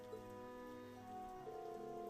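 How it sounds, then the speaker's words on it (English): Rain falls in a scene from the video game Trails of Cold Steel III, heard as a faint, steady patter beneath sustained musical tones, with no voices. "It's not raining that hard."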